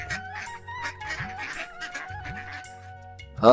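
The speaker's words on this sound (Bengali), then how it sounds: "আরে রমেশ ভাই তুমি দেখি পুকুর ভরে হাঁস পুষতে শুরু করেছো" Cartoon ducks on a pond honk and quack in repeated short calls over a steady synthetic music bed, with a louder burst at the end.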